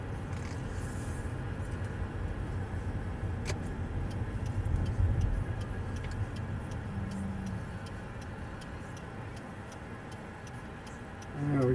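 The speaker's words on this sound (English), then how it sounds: "Just driving through the neighborhood." A car drives through a sunny residential neighborhood, heard from inside the cabin as a steady low road rumble and engine hum that carries on throughout, with a faint rhythmic ticking over it.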